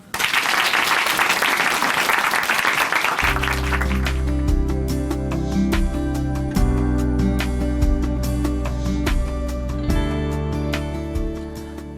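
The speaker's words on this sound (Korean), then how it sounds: "박수로 모십니다." An audience welcomes a speaker to a church broadcast stage with steady applause for about three seconds. Loud instrumental music with a sustained low bass then enters and continues under lighter clapping.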